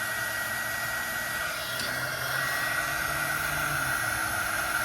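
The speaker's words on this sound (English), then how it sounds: "And I'm going to use my heat gun." A heat gun heats a solder sleeve on a wire during a camper trailer brake job, giving a steady, close, even blowing hiss that runs unbroken throughout.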